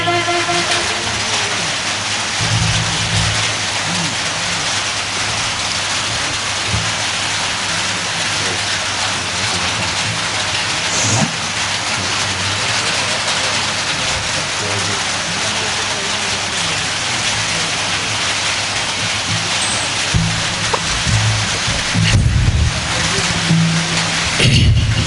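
Heavy rain pours steadily over an outdoor religious gathering in Kerala: a dense, loud, unbroken wash of hiss throughout, with a few louder gusts and bumps near the end.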